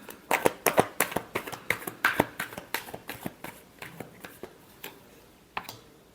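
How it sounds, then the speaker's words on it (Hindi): A deck of tarot cards is shuffled in quick riffling bursts, a close series of crisp papery slaps and flutters that comes in uneven clusters and then thins out toward the end, with no talking. "Last shuffle."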